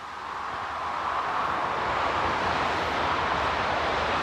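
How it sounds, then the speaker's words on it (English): Distant motorway traffic heard from a carp fishing spot, a steady broadband rushing hiss that swells slightly and then holds, with no voices. "I have to excuse the road noise, because there'll be a motorway there"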